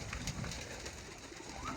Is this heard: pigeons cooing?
yes